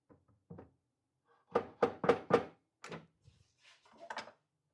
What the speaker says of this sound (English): I'm going to give just a little love tap over here